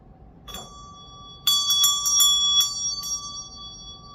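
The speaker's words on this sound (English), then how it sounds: "I'm going to ring my meditation bell now to continue opening the space up" A meditation bell is rung, giving a few bright metallic strikes with long ringing overtones, several quick hits close together and then a fading shimmer, in a quiet room with no talking.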